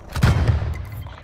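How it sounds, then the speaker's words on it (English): In a video game, a heavy airstrike blast lands as a loud, deep boom with a low rumble, then quickly fades into a trailing roar. "Hostile airstrike inbound."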